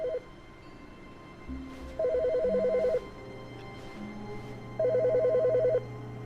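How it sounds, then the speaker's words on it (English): A telephone rings in the video game The Stanley Parable, with a brief ring at the start and then two longer, evenly pulsed ringing bursts separated by a quieter pause. "Who's calling the phone?"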